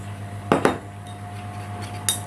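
Cornstarch mixed with a little water for fruit tart cream, a spoon clinking twice against a bowl, then quiet light scraping and a few more faint clinks, close up over a steady background hum, no talk.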